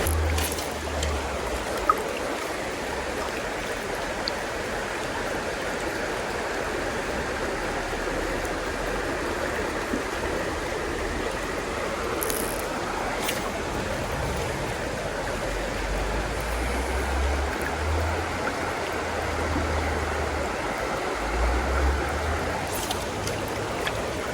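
The Little Juniata River, a wild brown trout stream, flows with a steady broadband rush that stays constant and close throughout, with no talking.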